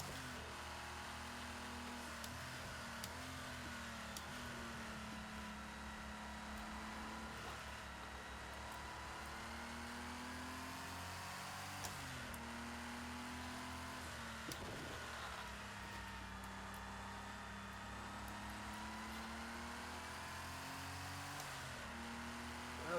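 Race car engine on a track in the Project CARS 2 video game, Spirit of Le Mans DLC, a faint steady drone rising and falling through gear changes, distant and continuous with no talk.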